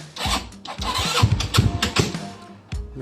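An ER150N motorcycle engine starting up and running rough, with uneven sputtering bursts and chugging revs close by before it briefly drops off.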